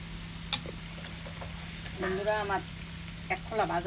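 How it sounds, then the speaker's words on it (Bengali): Finger-shaped gaja sweets fry in hot oil, giving a quiet, continuous sizzle, with a clatter near the start and a voice speaking over it in the second half. "গজা ভাজা হয়ে গেছে হ্যাঁ"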